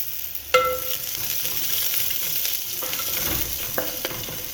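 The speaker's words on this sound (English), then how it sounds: "start frying the spring onions" Steady sizzling of spring onions frying in a hot pan, with occasional clinks and scrapes of a utensil stirring.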